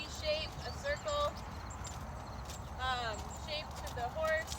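Hooves of a ridden horse clip-clop steadily as it moves around a circle, with a voice talking over the rhythmic beats.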